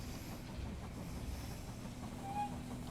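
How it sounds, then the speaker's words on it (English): Train arriving at a station in the strategy game They Are Billions, a steady low rumble of rolling rail cars with faint clatter and a brief squeal near the end, running alone at moderate level. "The train has arrived at the station."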